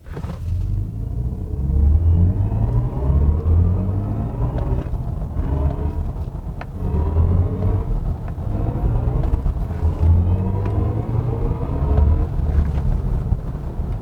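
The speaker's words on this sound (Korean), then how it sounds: "이 i4 M50 이 아이코닉 사운드부터 좀 말씀을 드리고 싶은데요." A BMW i4 M50 electric car plays its synthesized drive sound composed by Hans Zimmer: a steady, layered low hum with rising and falling tonal sweeps, continuous and fairly loud, with no voices.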